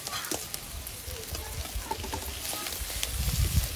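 A magur catfish head sizzles and spits as it drops into a hot pan of oil with ginger and whole green chillies, a steady close frying crackle that swells louder toward the end with some stirring clatter.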